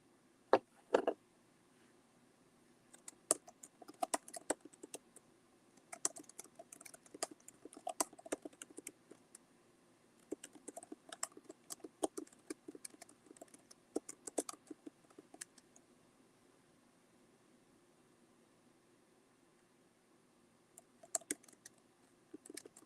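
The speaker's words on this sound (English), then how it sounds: "Okay, guys, I'm typing." Quiet, close computer keyboard typing in irregular bursts of soft key clicks with short pauses, faint and alone in a still room.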